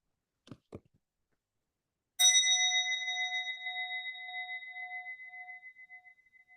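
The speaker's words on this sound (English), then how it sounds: "We sound this bell in remembrance for all transgender dead." A single remembrance bell at a Transgender Day of Remembrance ceremony struck once, ringing out with a clear tone that slowly decays over several seconds, after two faint knocks.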